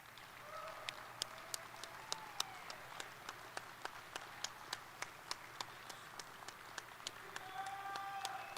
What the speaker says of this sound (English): We're going to clap for you.